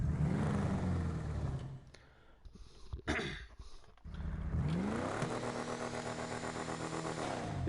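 Car engine revving in a garage, a deep steady drone that cuts out for a couple of seconds with a few soft noises, then rises again and holds a rich, even hum.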